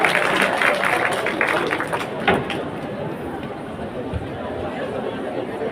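A crowd at a county development gathering in Kerugoya breaks into a short burst of applause and cheering for a local leader. The clapping fades quickly into murmuring chatter and background noise.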